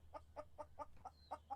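Chicken clucking in a farming supermarket simulator game, about seven quick, faint, evenly spaced clucks in a short run.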